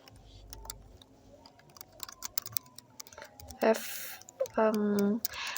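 Python code being typed on a computer keyboard, a stream of quick irregular key clicks, near and crisp, with a person speaking over parts of the typing.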